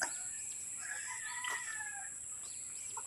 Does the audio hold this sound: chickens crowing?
yes